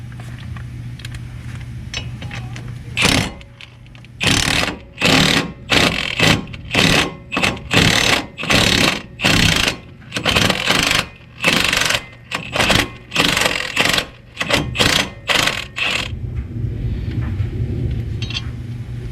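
An impact wrench backs a wheel bolt off a two-door Tahoe with repeated short, loud rattling bursts, about fifteen in a row with brief gaps, over a steady low hum.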